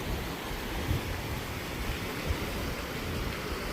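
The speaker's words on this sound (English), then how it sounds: "Just waterfalls everywhere." Snow-melt waterfalls high in the hills near Imogene Pass, just below the tree line, heard as a continuous broadband rush of falling water, steady and fairly loud, with some wind noise and no talk.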